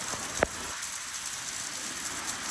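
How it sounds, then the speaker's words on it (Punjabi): Heavy rain pouring down in a village, a dense steady hiss of falling water throughout with one brief sharp knock near the start, fairly close and unbroken, no voices. "ਹੁਣ ਦੁਆਰੇ ਤੇਜ਼ ਹੋ ਗਿਆ ਮੀਂਹ"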